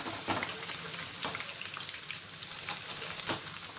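Pieces of wet food sizzling in deep hot oil, a steady dense crackle with occasional sharper pops and bursts, close and continuous throughout, with no voices.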